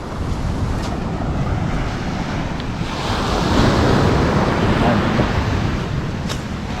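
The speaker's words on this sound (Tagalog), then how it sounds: "Maliliit na po yung alon." Small ocean waves break steadily on a beach at Ternate, Cavite, in a continuous broad wash with some wind noise across the microphone, swelling slightly midway, with no talking heard.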